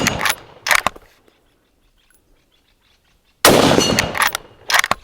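Bolt of a Barrett Fieldcraft lightweight rifle in 6.5 Creedmoor being worked, giving a few sharp metallic clacks and slides in two close, loud bursts separated by a silent pause.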